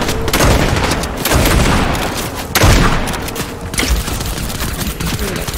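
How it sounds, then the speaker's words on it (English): Rapid gunfire in the video game Fortnite, with dense bursts of shots and booming impacts crowding together continuously and loudly, with no voices heard. "They see, they're still shooting at me."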